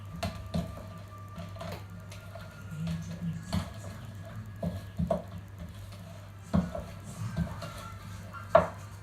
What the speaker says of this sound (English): At this stage I use a wooden spoon, just so the flour doesn't get everywhere.